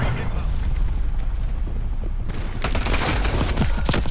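Rapid gunfire bursts from Call of Duty: Cold War gameplay, with a sniper rifle in use, loud and dense in the second half after a busier, rumbling stretch, with a voice speaking over parts of it.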